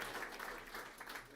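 Brief, fairly quiet burst of audience applause for a debate panel, a soft wash of clapping without voices, lasting just over a second.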